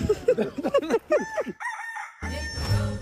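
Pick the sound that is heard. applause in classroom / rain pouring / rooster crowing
rooster crowing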